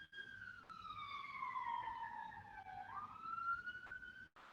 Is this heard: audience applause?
no